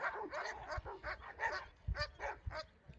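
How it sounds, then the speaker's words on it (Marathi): Several dogs barking on Vetal Tekdi, a hill in Kothrud, in a noisy back-and-forth of sharp yips and deeper barks, some near and some farther off, in quick irregular bursts with no talking. "भूकाला कॉम्पिटिशन चालू आहे कुत्र्यांची"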